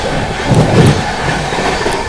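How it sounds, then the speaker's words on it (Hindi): The New Delhi–Howrah Rajdhani Express rushes past at speed, a loud, close, continuous roar of wheels and rail rumble with faint clatter and no talk. "न्यू दिल्ली हावड़ा राजधानी एक्सप्रेस क्या गजब की रफ्तार में निकली है"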